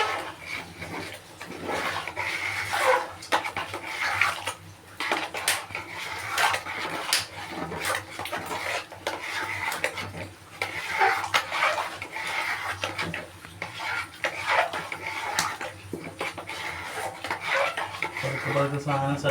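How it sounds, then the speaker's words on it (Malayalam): A spoon scrapes and clinks around a cooking pot of biryani ingredients, steady rubbing and metallic knocks repeating for a long stretch, close and fairly loud with brief pauses. "അതിനെ ഒന്നുകൂടെ ഇളക്കി കൊടുക്കുക."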